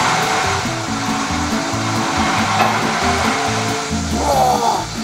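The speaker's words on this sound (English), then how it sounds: "that's the sound of the spinning wheel whizzing round and round," Spinning impeller wheel of a water slide pump whizzes round and round pushing water upward, a steady close whirring hum with rhythmic pulsing underneath and a faint rising squeal near the end.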